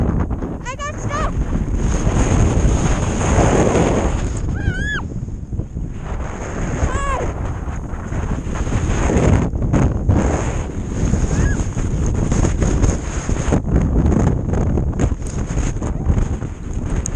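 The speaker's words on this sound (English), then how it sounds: "It's windy!" Strong blizzard wind buffets the microphone on a snowy mountain at a snowboard school, a loud continuous roar throughout with people shouting and talking over it.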